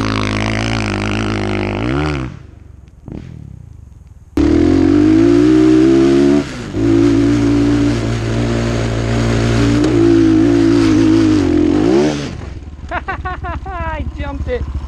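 Dirt bike engine revving hard on a steep trail hill climb in third gear, loud and close, holding high revs with pitch rising and dipping through gear changes, then cutting back near the end.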